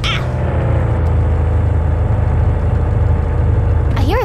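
A car engine hums in a steady low rumble throughout a night drive in a game, close and continuous, with a brief whirring rise near the end.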